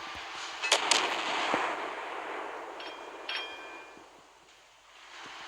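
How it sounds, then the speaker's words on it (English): Main guns of a naval warship fire in the game Naval Creed, with a couple of sharp booming reports early and a few more later, each followed by a rolling rumble that carries across the whole stretch. "you can kind of get a couple shots off yourself with your main guns if you're ready"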